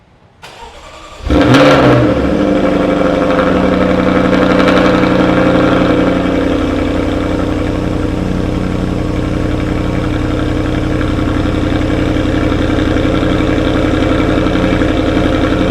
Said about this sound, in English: we'll start the car up now so you can hear its sounds